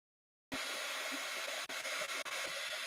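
A hair dryer blows steadily on wet gesso over a paper collage cluster, a loud continuous airy roar starting abruptly after a short silence, with a couple of brief dips as it is moved.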